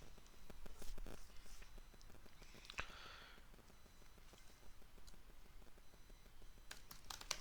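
Fairly quiet computer keyboard typing while a C program for adding two numbers is written, with soft, irregular key clicks coming in short bursts and a brief louder clatter partway through.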